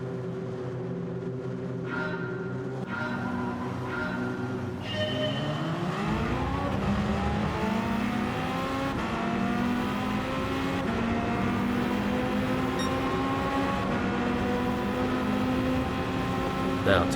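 Race cars sit idling on the grid, then rise into a loud, sustained multi-car engine roar as revs build in Gran Turismo 7, layered engine harmonics climbing together and holding steady.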